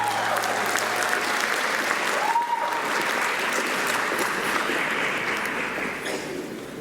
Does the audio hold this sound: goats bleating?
no